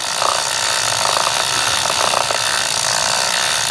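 A Park Tool chain cleaner scrubs a bike chain as the pedals turn backwards, bristles working into the links with a steady ratcheting whir and bursts of brushy clicking, close and alone.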